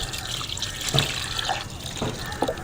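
Rice-washing water mixed with groundnut cake poured onto garden plants, a steady close splash and trickle of water with occasional drips.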